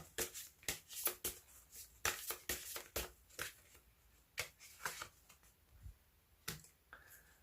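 Tarot cards are shuffled and handled in a quiet room, giving a run of sharp, irregular snapping and flicking clicks with short gaps between them.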